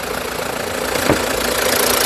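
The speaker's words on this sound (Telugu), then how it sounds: "ఇంజన్ యొక్క నాయిస్ చాలా సైలెంట్గా అయితే ఉంది" Low steady hum of a 2018 Jeep Compass Limited engine idling nearby, smooth and constant with a slight knock in the middle.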